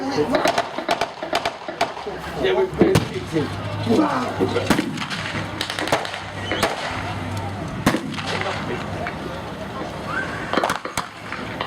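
A WWII light tank firing its gun during a Normandy battle reenactment, sharp distant bangs and cracks scattered through crowd noise, with someone narrating over the action.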